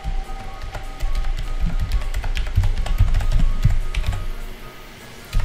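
Rapid typing on a computer keyboard, close and fairly loud, with irregular clusters of key clicks over a few seconds and a brief lull near the end, no speech.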